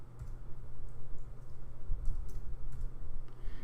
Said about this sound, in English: So we'll type in Tukey.